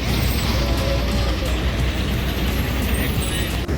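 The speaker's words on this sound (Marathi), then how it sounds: "non A C bus" Non-AC bus idling with a steady low engine rumble and road-vehicle noise, continuous and fairly close, with faint background voices mixed underneath.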